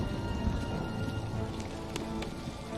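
Steady rain patters continuously on surfaces, a dense hiss throughout with no voices.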